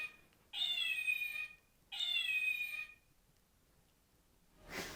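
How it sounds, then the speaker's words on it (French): A cat meows three times, nearby and clear: two long drawn-out meows, then a brief, louder final cry in an otherwise quiet room. "3 miaulements ont été entendus."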